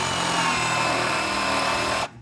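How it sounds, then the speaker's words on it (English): A power drill whirs loudly and steadily at close range, then cuts off abruptly near the end. "Drill time."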